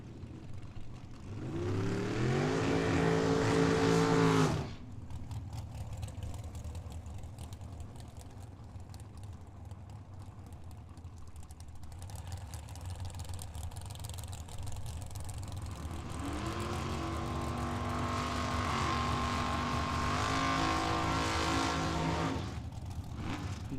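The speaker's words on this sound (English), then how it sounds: "Nice smoky burnout here on the left-hand side for that Nova." A Chevrolet Nova drag car does a smoky burnout at Tucson Dragway. Two loud bursts of high-revving engine rise and hold, with a lower idle rumble between them.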